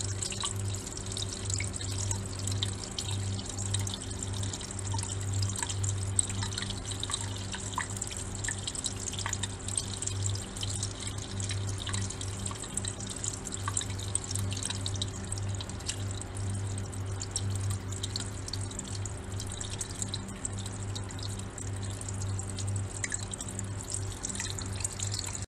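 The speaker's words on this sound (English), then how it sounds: "It will still need some hours for dripping" Liquid drips slowly through an in-line filter in a steady stream of small, quiet drops over a faint background hum, with no talk throughout.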